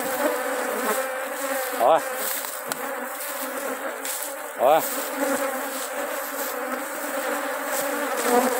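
Honey bees hum in a dense, continuous buzz at an apiary during feeding, close and steady, while someone briefly speaks twice over the swarm.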